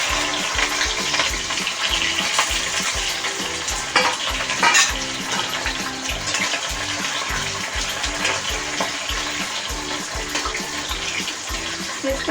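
Sliced okra fries in plenty of very hot oil while being stirred, giving a dense, steady sizzle throughout with scraping stirring strokes layered on top, close up and with no talking.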